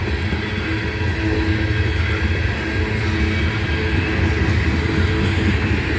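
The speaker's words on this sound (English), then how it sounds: "This is a very quiet train. The rails are making more noise than the train is." A quiet freight train rolls through Abbeville, its steady low rumble and rail noise continuing evenly and close by, with no voices.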